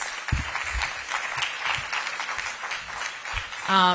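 Crowd applause for library staff at a mayor's public program launch, a dense patter of many hands clapping continuously, with a brief tone near the end.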